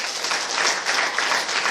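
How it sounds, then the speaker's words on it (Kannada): Audience applause at a talk on animation films, a dense steady wash of many hands clapping at a fairly even level throughout, with no voices over it. "ದೊಡ್ಡ ಚಪ್ಪಾಳೆ."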